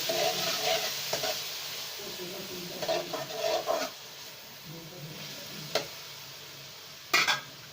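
Onions and potatoes stir-fry in a pan, a soft continuous sizzle with bursts of spatula scraping and a few sharper utensil knocks near the end.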